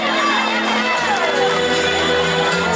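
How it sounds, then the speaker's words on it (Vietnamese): Applause and crowd cheering for the bride and groom at a wedding in Bản Món, Thanh Luông, Điện Biên: a dense, steady roar of clapping over music for nearly three seconds. "một tràng vỗ tay thật lớn để cùng chúc mừng cô dâu và chú rể"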